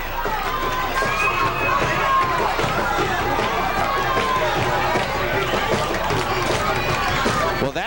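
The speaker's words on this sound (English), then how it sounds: "that gets the buzz back into the crowd for the Warriors" Crowd noise at a high school football game between the Kapaa Warriors and the Menahunes, heard right after a long kick return: a steady, loud wash of chatter and cheering with announcer-style talk over it.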